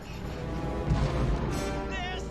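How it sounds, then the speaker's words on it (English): Fireworks go off in The Nightmare Before Christmas film, a few muffled booms and crackles rising over a low background of music and noise. "Fireworks, I think."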